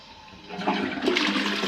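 A toilet flushing close by, a rising rush of water that swells after the first half-second and keeps gushing to the end, with no voices over it.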